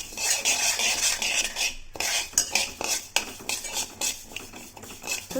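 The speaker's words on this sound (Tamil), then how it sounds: "அதையும் சேர்த்து நல்லா வறுத்தரலாம்" Black urad dal and raw rice dry-roasting in a pan, with a utensil scraping and stirring the grains in a continuous rattling, gritty rustle punctuated by metallic clinks, close and moderately loud.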